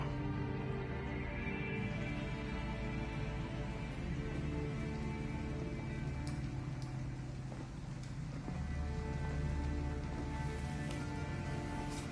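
Pouring rain in the video game Detroit: Become Human, a steady, soft hiss of rainfall against a low background hum, with no one speaking.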